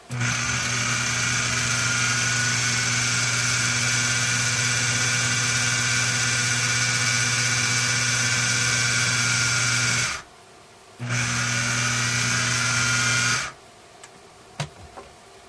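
Blender whirring tofu ricotta with nutritional yeast, a loud steady motor drone that cuts out briefly, restarts, then stops with a few small knocks at the end.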